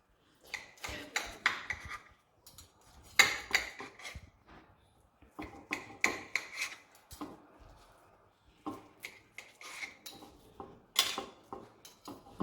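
Spoons and cutlery clink and scrape against dishes during a meal of Portuguese cozido with tender meat and ribs, giving sharp, irregular taps and rattles at close range with short pauses between them.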